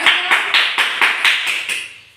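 Several people clap hands together in a steady rhythm, about eight close, crisp beats evenly spaced and fading slightly at the end.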